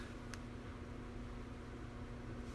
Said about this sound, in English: I turned this fan on and it's totally turned the wrong way